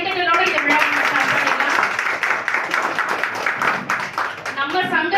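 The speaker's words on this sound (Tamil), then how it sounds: "ஒரு பெரிய கைத்தட்டலோட இந்த விழா" A crowd at a Pongal festival celebration claps steadily and densely for several seconds, loud and close.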